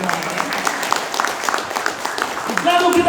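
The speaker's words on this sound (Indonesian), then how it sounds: "Semua tepuk tangan." An audience at a seminar claps, a quick run of hand claps that builds into a fuller round of applause at the end while a voice speaks over it.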